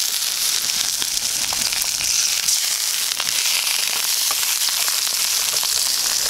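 Sausages cooking in a pan outdoors on a calm day, giving a loud, steady sizzle and crackle with scattered sharp pops throughout, no voices.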